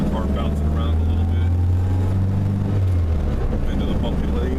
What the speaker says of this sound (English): you'll probably notice the car bouncing around a little